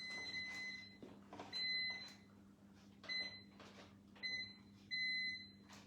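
A kitchen microwave oven that is acting up sounds a series of short, repeated high electronic beeps in uneven bursts, moderately close, over a low steady hum.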